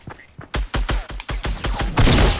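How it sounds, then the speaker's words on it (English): Rapid bursts of enemy gunfire in a Fortnite Battle Royale duo match, a string of sharp loud shots at an uneven rhythm that thickens into a dense volley near the end, with no talk over it. "They're shooting at us from somewhere."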